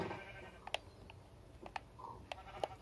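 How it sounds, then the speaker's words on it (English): Minecraft sheep on Xbox One give several short, faint bleats scattered over a quiet game background, with no talking. "Oh, there's loads of sheep here."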